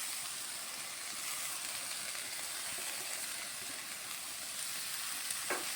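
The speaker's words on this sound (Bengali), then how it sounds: "শাক দিয়ে দিচ্ছি।" Chickpea greens sizzle steadily in a frying pan, a continuous broadband hiss of hot oil with faint crackles throughout and no voices.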